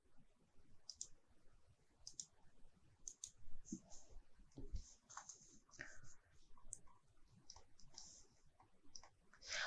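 Scattered computer mouse clicks, quiet and irregular, come one or a few at a time over a soft background hiss while a beam is set up in RFEM 6 structural engineering software.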